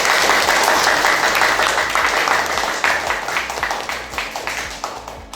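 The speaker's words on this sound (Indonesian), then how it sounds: "kita kasih aplaus untuk kelompok 1" A classroom of vocational school students clapping for a group, a dense burst of applause that thins into scattered claps, with a few voices mixed in.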